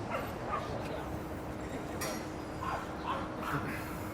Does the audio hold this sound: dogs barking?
yes